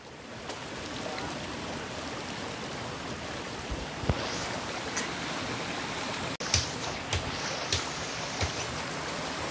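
Steady rushing of river water around a person wading across a countryside river, with a few splashes from footsteps in the current, fairly close and continuous throughout.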